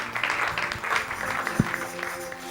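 A church congregation claps for the Lord during a prophetic service, a dense run of applause mixed with voices and a single low thump.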